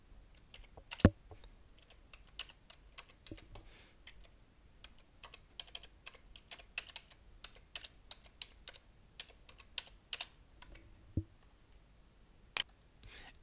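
Computer keyboard typed on at close range, quiet irregular clicks and taps in uneven bursts over about thirteen seconds, with a few louder key strikes and no speech.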